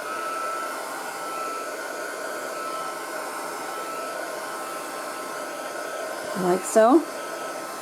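A heat gun blows a steady, loud rush of hot air continuously for several seconds while drying a mixed-media art journal page, then falters with a brief rising whine near the end as a voice speaks.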